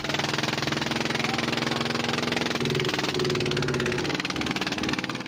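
A fishing boat's engine running steadily, a dense rough mechanical drone with a fast, even pulse that holds at a constant loud level throughout, with no one talking.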